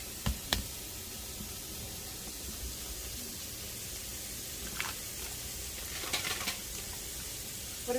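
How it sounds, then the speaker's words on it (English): McCormick taco seasoning stirred into a hot pan of sizzling meat, a steady soft frying hiss with occasional spoon knocks and scrapes against the pan, fairly quiet and without talk. "we can just go ahead and stir in our taco seasoning"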